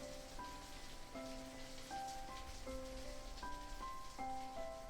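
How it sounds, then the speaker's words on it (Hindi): Steady, soft rain falls in a continuous hiss for a calming sleep story, with gentle sustained musical notes playing over it. "सिर्फ बारिश की आवाज़ और मेरी आवाज़।"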